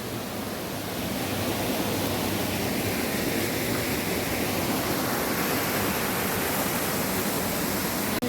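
Hasaan Falls in Bulacan pours with a dense, constant roar of falling water that swells slightly after the first second, close and loud, with no voices.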